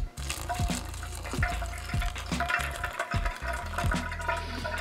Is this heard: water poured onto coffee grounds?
yes